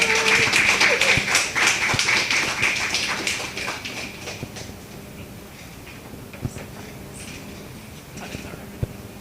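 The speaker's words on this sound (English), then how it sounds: "Another round of applause for Delta." Audience applause at an internal audit function event in Anguilla, a dense burst of clapping that thins and fades over several seconds, leaving scattered isolated claps.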